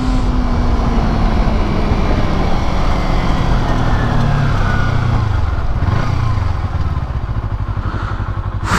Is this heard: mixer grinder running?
no